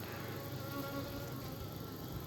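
A colony of Apis mellifera honeybees buzzes in a steady, faint drone with a few sustained tonal hums layered in, continuous and even throughout.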